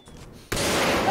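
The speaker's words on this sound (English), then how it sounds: "That's a rocket." Rocket explosion in Far Cry 5, a sudden loud broadband blast that cuts in midway and roars on sustained after a quieter stretch of game ambience.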